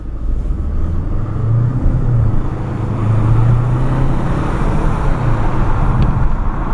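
Mercedes-Benz GLB petrol hybrid (161 hp) driving at night, heard from inside as a steady low road and engine rumble with tyre noise, continuous and fairly loud throughout, no talking.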